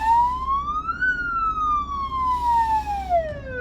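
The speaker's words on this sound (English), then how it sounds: "That siren was definitely disrespected there" A South African police car siren wails, rising and falling in long sweeping tones, loud and fairly close, over a low engine rumble.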